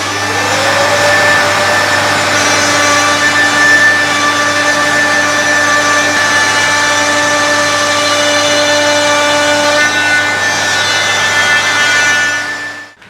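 A Festool OF 1010 router plunge-cutting a circular hole, a loud, steady high-pitched motor whine with a strong tonal hum that holds for about twelve seconds before winding down at the end.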